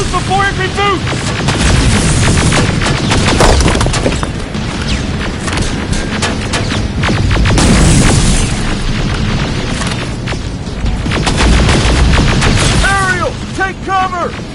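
Gunfire in the video game Terminator: Resistance: dense, loud bursts of shots and booming explosions go on without a break, with shouted voices heard briefly near the start and end.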